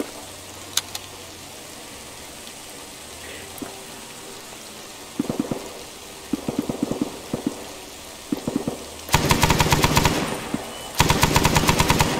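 A machine gun fires in the Vietnam War game SOG Prairie Fire. Quieter scattered shots and short bursts come first, then two loud sustained automatic volleys close by, over a steady background hiss like rain.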